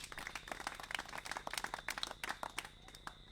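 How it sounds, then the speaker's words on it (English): Scattered applause from an audience, a quiet patter of many hands clapping steadily for a few seconds. "A round of applause for them."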